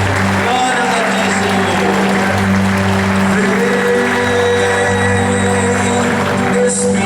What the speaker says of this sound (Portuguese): Palmas para Jesus, o doador do Espírito.